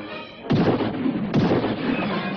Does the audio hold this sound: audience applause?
no